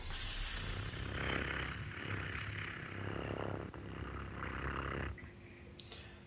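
A voice imitating a cat's purr: a steady, close, rumbling drone with fast low pulses that runs for several seconds before trailing off.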